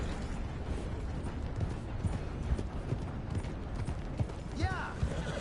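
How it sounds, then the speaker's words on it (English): Hooves clip-clop in a steady rhythm as a horse moves along in a PS4 game, close and continuous, with a brief whinny-like call near the end. "That is a good old horse."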